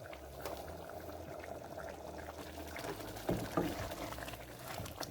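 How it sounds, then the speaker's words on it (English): Cornmeal with spinach boiling in a pot, a faint low bubbling and gentle plopping with a couple of brief louder splashes midway, heard quietly with no talking. "We're gonna continue to boil, and then we keep stirring and stirring"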